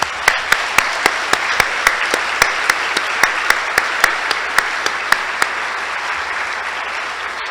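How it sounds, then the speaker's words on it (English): Conference audience at the CSUN Assistive Technology Conference keynote applauds steadily for several seconds. A dense wash of clapping is punctuated by sharp, close individual claps, and it thins slightly toward the end. "Let's give them all a big round of applause."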